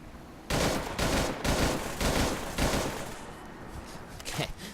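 A FAMAS rifle fires in bursts in Fallout 4, several loud rattling volleys in quick succession followed by quieter trailing shots.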